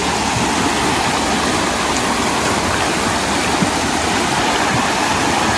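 A river at a country property near Dois Vizinhos rushes in a loud, steady wash of flowing water, continuous and close with no pauses or voices.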